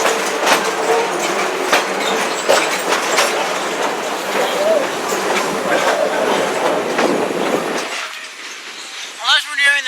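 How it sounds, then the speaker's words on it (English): Slow-moving excursion train on a heritage railroad, rolling steadily on rails with a continuous broadband rumble and faint wheel clatter, close by; the rumble drops away near the end as a brief voice comes in. "world's slowest train now."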